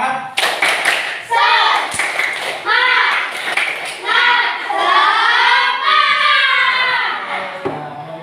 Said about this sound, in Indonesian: Oke, bareng-bareng ya. Tepuk semangat.